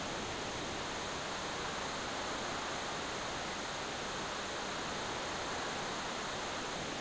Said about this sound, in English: River sounds.